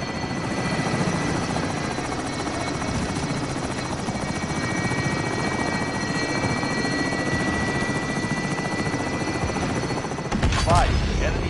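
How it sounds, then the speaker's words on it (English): An enemy attack helicopter in a PS4 shooter drones continuously with a steady rotor thrum, loud and unbroken for the whole stretch, with a brief burst of other game noise near the end. "Enemy attack chopper incoming."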